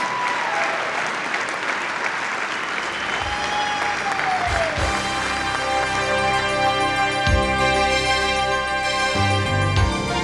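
Loud, sustained applause from a large audience at a drag racing awards ceremony fills the whole stretch, with music and a sweeping tone rising underneath partway through.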